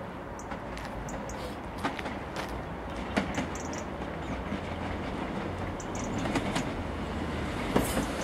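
Network West Midlands Class 150 diesel train passing through Worcester Foregate Street station, a steady rumbling roll with wheel clatter and occasional squeals, moderately loud and continuous throughout.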